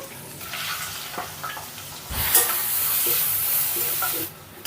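Thinly sliced onions fry in oil in a pan for an egg curry, giving a steady hissing sizzle. The sizzle swells loudly midway as they are stirred, with occasional scraping.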